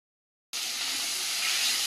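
Fish frying in a pan starts abruptly as a loud, steady, close hiss of sizzling oil that continues unbroken to the end, with no voices.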